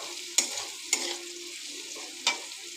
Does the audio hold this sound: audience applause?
no